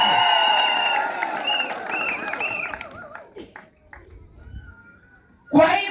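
A stadium crowd breaks into applause and cheering, loud and dense at first, then thinning to scattered claps that fade out before a short burst of noise at the end.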